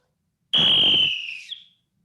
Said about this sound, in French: Le coup de sifflet va pouvoir te permettre de moduler.